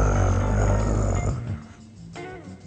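A man imitates a crocodile's moan with a loud, rough, drawn-out snoring growl up close that fades into a softer grunt.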